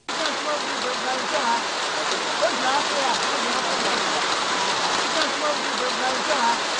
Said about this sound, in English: We had to pause the interviews at this moment because it was just about raining.